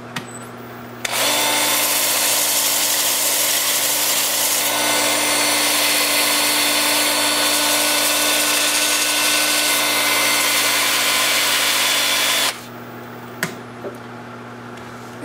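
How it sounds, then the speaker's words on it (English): A 2-inch disc sander runs steadily at 350 RPM on a woodturning piece, a continuous whirring motor tone that starts abruptly, holds for about eleven seconds and cuts off, with faint clicks afterward. "I'll be using my 2-inch disc sander to do that. I'm going to start in reverse at 350 RPM"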